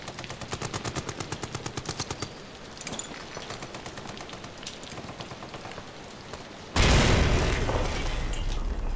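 Rapid bursts of gunfire from the Amnesia: The Bunker video game rattle for a couple of seconds, then sparse shots follow, and a loud, sustained grenade explosion booms and rumbles on to the end.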